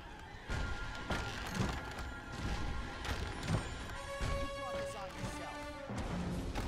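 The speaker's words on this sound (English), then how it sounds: "explosions don't have a heck of a lot of spread to them" Catapult-launched explosions in Disney Infinity 3.0 Toy Box mode: a run of crashing, thudding impacts and splintering booms, mid-distance and fairly steady, mixed with game music and tonal effects.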